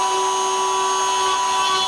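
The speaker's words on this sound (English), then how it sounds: "drilling into that back edge so that it doesn't tear out, it'll drill down" A drill bores into the back edge of a wooden box in a basic boxmaking workshop, giving a loud, steady high whine with a sustained tone, close by and without talk.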